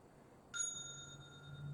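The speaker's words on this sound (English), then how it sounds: "ring a bell, get that sage smell so I can get the smells rolling" A small bell rung during a meditation ritual gives a single bright strike, then a clear ringing tone that lingers and slowly fades in a quiet room.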